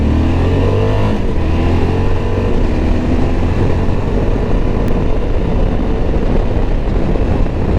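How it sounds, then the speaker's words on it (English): A Suzuki V-Strom 1050 DE V-twin motorcycle engine runs loud and close throughout, a dense, rough rumble with a slight rise in revs and no pauses. "The engine isn't as smooth, but I like that. That's me. Because it's that V-twin"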